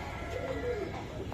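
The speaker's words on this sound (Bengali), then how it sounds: "এই দর্শক দেখেন কবুতর গুলা" At a pigeon sale offering Budapest, Rampuri, racer and Pakistani pigeons, a single soft, low coo rises briefly against a faint background murmur.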